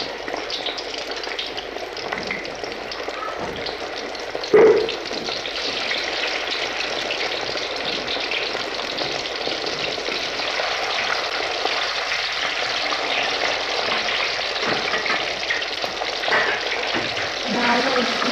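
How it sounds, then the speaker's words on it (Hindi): Beef kofta meatballs fry in oil in a kadai, giving a steady close sizzle and crackle throughout, with one brief clink of a utensil near the start. "ये आप देख सकते हैं किस तरह फ्राई हो चुके हैं, इस तरह से।"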